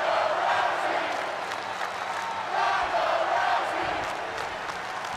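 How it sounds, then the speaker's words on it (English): A video game arena crowd in WWE 2K22 roars and cheers in a loud, continuous wash of noise that swells slightly midway, with a voice faintly mixed in. "And listen to the crowd!"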